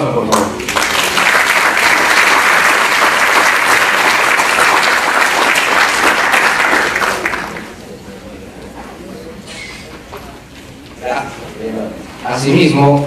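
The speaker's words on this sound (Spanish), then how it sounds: "Fuertes aplausos, por favor." Loud sustained applause from a conference audience at an anniversary event for Lima's Superior Court of Justice, lasting around seven seconds before fading into quieter room noise, with a voice speaking afterward.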